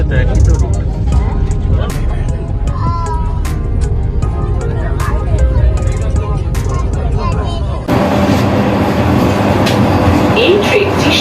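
A Vande Bharat express travels toward Malda Town, heard from inside as a loud, steady rumble of wheels and rails with rattling clicks, while people talk over the running noise.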